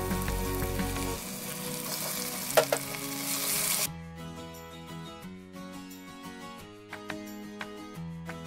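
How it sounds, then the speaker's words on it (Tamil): Tomatoes and brinjal fry together with salt in a pan while being stirred. A steady sizzle carries the whole stretch. Louder, denser frying comes first, then a quieter simmer with occasional clinks of the spoon. No one talks. "இதை ரெண்டையும் கொஞ்சம் உப்பு சேர்த்து நம்ம நல்லா மிக்ஸ் பண்ணிக்கலாம்"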